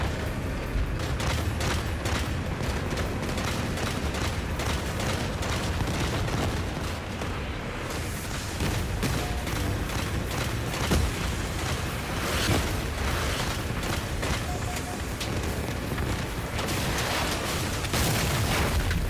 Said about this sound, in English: the grenades definitely excel in destroying buildings